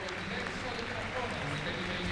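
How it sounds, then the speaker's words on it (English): An audience gives steady, fairly faint applause after a high school calligraphy club's performance at a student summit in Niigata. The dense clapping continues evenly with no breaks. "Everyone, please give them a big round of applause."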